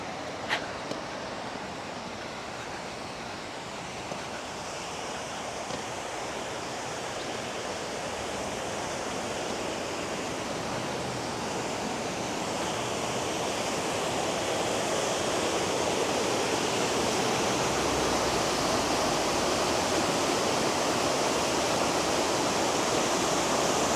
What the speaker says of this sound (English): Let's go to the waterfall real quick.